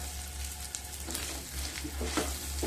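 Slit green chillies and spices fry in hot oil in a pan for lemon rice, giving a soft, steady sizzle with light crackles over a low background hum.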